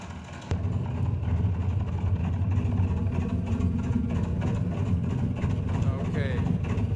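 In a Boeing 314 flight simulator, engine number 3 starts abruptly and settles into a loud, steady low droning rumble that carries on without change.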